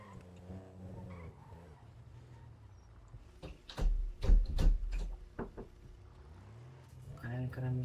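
A car in the video game GTA 5 drives and skids, with engine revving and a few sharp tire screeches in the middle, while someone talks over the gameplay.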